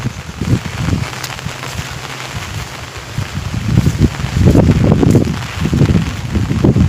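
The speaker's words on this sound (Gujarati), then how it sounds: "પવન વધારે છે ને એના કારણે એરંડા છે ને નમી જાય રહ્યા છે ભોંય." Strong wind roars steadily through a castor field during drizzling rain, with gusts swelling louder toward the end, a broad rushing noise buffeting the microphone.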